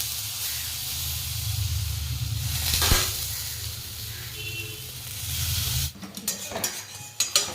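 Dhoka curry cooks in a black kadai, a steady close hiss and sizzle that stops abruptly, followed by a few scattered utensil knocks.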